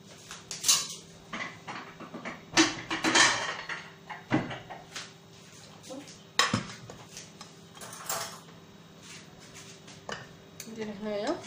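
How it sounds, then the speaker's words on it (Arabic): Pressure cooker pot handled in a Moroccan kitchen while making harira, with irregular metallic clanks, knocks and lid clatters, near and intermittent, amid soft background voices. "هنايا غادي نجي طنجرة الضغط أو كوكوط"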